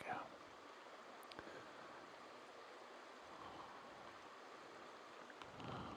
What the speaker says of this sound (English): Now this is the Clough Brook that we've crossed a couple of times further back.